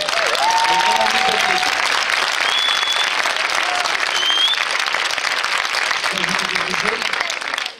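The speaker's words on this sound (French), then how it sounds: "on peut l'applaudir vraiment très fort" An audience at a Christmas preview event applauds loudly and continuously for a guest, a thick wash of clapping with a few whistles and shouts rising above it.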